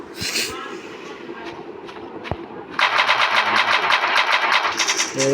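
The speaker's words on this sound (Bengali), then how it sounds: "এই যে মেশিন গানটা" Machine gun fire from a Minecraft PE gun mod: after a quiet stretch with a couple of sharp single shots, a loud, dense burst of rapid automatic fire runs to the end, with a voice talking underneath.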